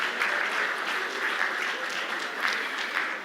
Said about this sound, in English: my plea for a resounding round of applause for President